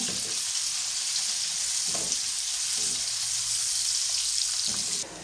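Chopped onion fries in a pan with a loud, close, even sizzle that holds steady for several seconds, with faint stirring scrapes now and then, before easing slightly at the very end.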